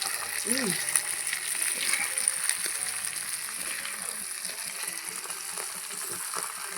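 Fish frying in oil with spice masala, giving a steady, close sizzle with light crackling that holds at an even level throughout.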